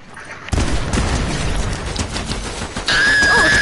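Video game gunfire comes in as a loud burst of rapid shots and booms that keeps going, ending in a sharper, sustained blast of noise.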